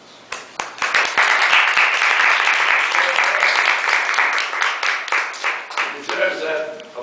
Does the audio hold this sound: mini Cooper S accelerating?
no